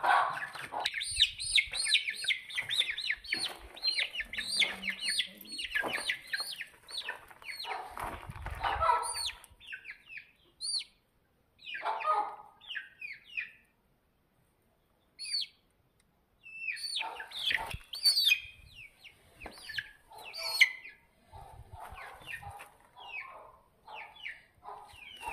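Backyard chickens, some of them sick, cluck and call in irregular bursts close by, with chirps and short squawks separated by brief quiet gaps.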